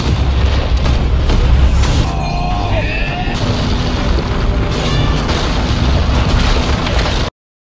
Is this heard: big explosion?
yes